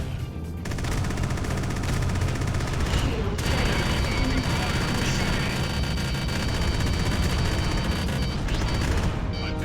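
Sustained rapid gunfire from a strafing run in the space combat game Freelancer, a loud dense continuous barrage of shots with no break across the whole stretch.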